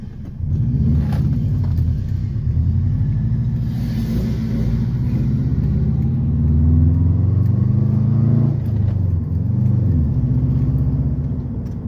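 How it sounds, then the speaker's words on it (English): A 2003 Subaru WRX engine being over-revved while driving, with a steady, loud low engine drone and rising and falling revs throughout, heard from inside the car. "So I have to over rev a lot because I'm pretty sure I need a new diff bushing."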